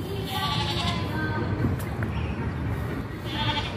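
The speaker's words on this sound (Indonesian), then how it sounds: "Ini ada kandang domba di sini." Sheep bleat in a pen at a park animal enclosure holding four sheep, the calls loud and close over a busy outdoor background, with faint voices mixed in.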